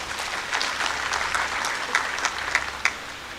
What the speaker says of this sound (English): Could we kindly give them a round of applause?